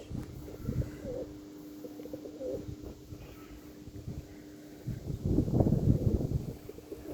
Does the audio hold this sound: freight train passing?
no